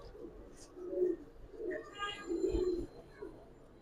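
Giribaz pigeons, a Bengali tumbler breed, coo softly at close range in a few low, rolling phrases, with faint chirps and light background noise.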